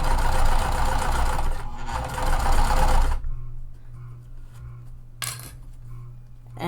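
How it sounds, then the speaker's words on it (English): A sewing machine backstitches elastic along a tote bag seam, whirring rapidly and close for about three seconds before stopping. A quiet hum follows, broken by a few light clicks and one short burst of stitching. "gonna backstitch at the beginning and the end because it is going to be hidden on this seam here"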